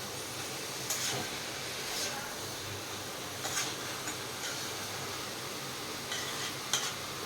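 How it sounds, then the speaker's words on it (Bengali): Banana flower is stirred with spices in a pan, with a soft continuous sizzle and a few short scraping clicks of the spoon spaced through it, close and moderate in level. "এবার মোচাটাকে মশলার সাথে ভালো করে মিশিয়ে নিতে হবে।"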